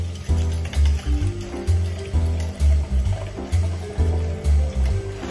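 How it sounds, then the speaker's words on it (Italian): Stand mixer kneading high-hydration pizza dough at second speed while water is added little by little, a steady rhythmic churning and thumping with wet sloshing, repeating about once a second, close and loud with no talk. "A seconda velocità, subito, e questa volta poco alla volta inseriamo l'acqua."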